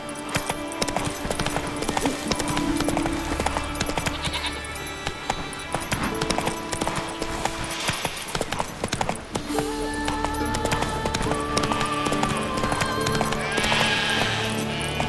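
Horse hooves gallop in The Witcher 3: Wild Hunt, a steady clip-clop under busy game sound with bleating sheep and a whinny mixed in.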